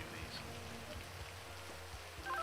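Steady rain in GTA 5 patters on a surface, a continuous soft hiss with a few sharper drips and brief chirps, fairly quiet throughout.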